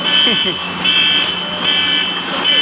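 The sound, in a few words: car alarm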